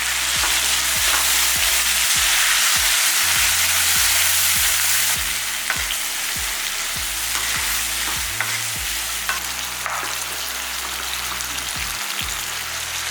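Onions and tomato sautéing in a hot pan, a continuous loud sizzle with scattered crackles and stirring scrapes, steady throughout with no talk.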